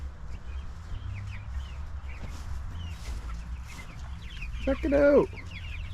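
Meat chickens cluck steadily inside their grassy shelter, a flock murmuring close by with one louder, sharper cluck near the end, while a low hum runs underneath and a person speaks briefly.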